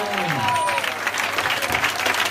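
A church congregation claps and cheers at a French-language praise and worship prayer service, with sustained applause filling the room and a voice ringing out above it.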